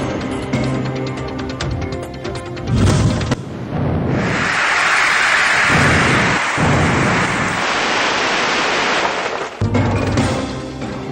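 Thunder rolls during a rainstorm, a loud deep rumbling boom that swells and holds for several seconds over a steady wash of rain, with no voices.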